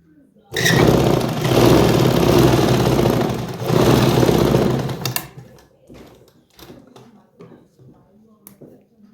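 A sewing machine stitches a pleat on palazzo pants, whirring loudly and steadily for about four seconds with a brief dip midway, then stopping, followed by quieter handling noises and someone talking.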